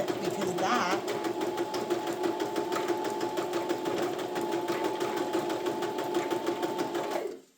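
A sewing machine runs zigzag stitches through fabric for a Y2K-style upcycled heart purse, then backstitches, a steady close rapid mechanical chatter running nearly unbroken for several seconds before stopping abruptly.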